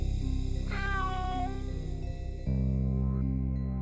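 A large silver cat lets out a drawn, wavering meow over a steady bed of musical background tones.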